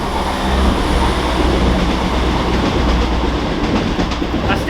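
A passing train rumbles loudly and continuously close by, its broad roar steady throughout with faint rhythmic rail clatter and no voices.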